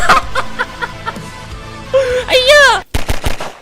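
Video game gunfire: a quick run of sharp shots crackles near and loud at the start, then a voice laughs and chatters over a few more bursts.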